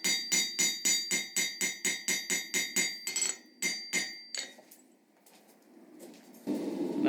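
Cross peen hammer striking forged steel to texture a leaf for a Christmas wreath: a rapid, even series of ringing metallic blows, close and sharp, then a few scattered strikes and quieter shop noise.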